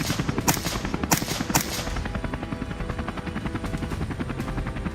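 A helicopter's rotor chops steadily and loudly throughout, with a few sharp bangs standing out near the beginning.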